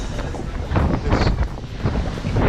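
Strong wind buffets the microphone on the open upper deck of the Norwegian Gem cruise ship, near the deck 13 jogging track. It roars loudly and steadily in gusting surges, with no voices.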